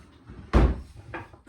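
A tool drawer in a single-car garage woodworking shop slides and bumps shut with one solid knock, followed by a lighter rattle and a faint click, close by with no talking.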